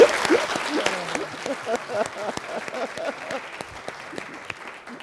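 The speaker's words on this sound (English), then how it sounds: "let's give them a nice round of applause" Audience applause at a Freedom Rider forum honoring a panel, a moderate round of clapping that thins and fades over several seconds, with a voice briefly audible at the start.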